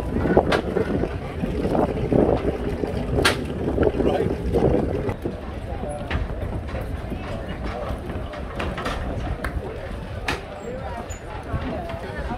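A Cigarette Racing powerboat passes at the Palm Beach International Boat Show, its engine drone blending with heavy wind buffeting and water noise, fairly loud and sustained throughout.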